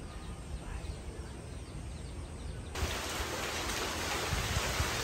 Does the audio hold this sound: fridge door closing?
no